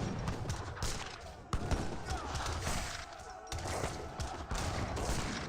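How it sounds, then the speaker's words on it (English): Culverin cannons firing in Age of Empires 3, a battle of repeated booming shots and thuds in quick volleys, layered with other combat noise. "going to receive some fire from the culverins now"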